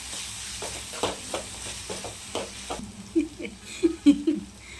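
Garam masala being mixed into frying curry, with a soft sizzle under repeated scraping and tapping strokes of a spoon against the pan, growing louder and quicker toward the end.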